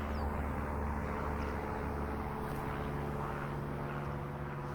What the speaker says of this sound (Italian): C'è l'aereo, tempo.